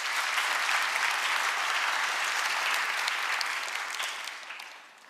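Sustained applause from the audience at a national policy planning committee's public report event greets a presenter, a steady dense wash of clapping that fades out over the last second.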